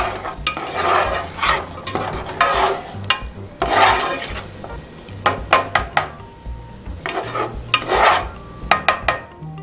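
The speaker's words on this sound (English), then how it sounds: "So I'm going to take this spoon and move these onions around." A spoon stirring onions frying in butter in a pan, with repeated scraping sweeps in an uneven rhythm over a constant sizzle, close and loud with no talk.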